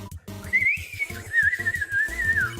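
A whistling kettle sound in the video game Undertale gives a wavering, sustained high whistle that rises and dips over a few seconds, with low game music or tones pulsing underneath.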